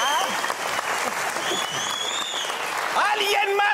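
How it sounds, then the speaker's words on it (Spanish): A studio audience claps in a steady, dense round of applause during a comedy show, while people talk and call out over it. "María, un fuerte aplauso para el maestro Palustre"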